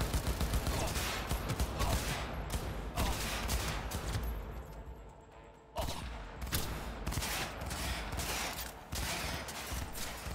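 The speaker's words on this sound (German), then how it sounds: "Mann, mit der Waffe lässt sich ja besser schießen" Dense gunfire from a weapon in Cyberpunk 2077, bursts of rapid shots crackling almost continuously with brief pauses, loud and close, mixed with game combat noise.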